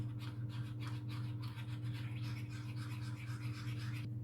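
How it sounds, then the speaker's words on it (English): Pastry dough of flour and egg white for a chocolate shortcrust is mixed in a bowl, giving steady, close scraping and stirring strokes in a regular rhythm over a constant low hum. "And just mix in the egg white to loosen the mix up a bit."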